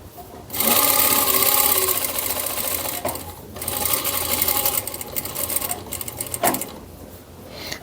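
Sewing machine stitching a fabric tote bag, running in long loud continuous bursts close to the microphone with a brief pause between runs and a soft clunk near the end.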